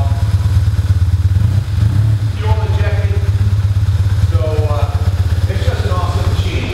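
A 2001 BMW R1150GS motorcycle with its factory stainless steel exhaust runs steadily at idle, a loud continuous low thrum with someone talking over it.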